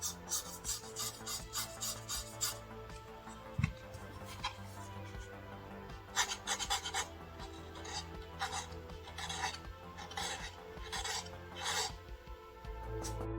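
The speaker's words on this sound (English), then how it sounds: "You can hear the sound when I run my nail on the surface." A fingernail rasps across the sandy matte coating of a Glorious Model D Pro Skyline gaming mouse, giving close, dry scratching strokes in repeated bursts with brief pauses between them.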